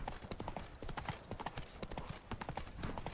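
Horse hooves clip-clop in The Witcher 3 video game, a steady, quick rhythm of hoofbeats at a moderate distance, fairly quiet, with no talk over them.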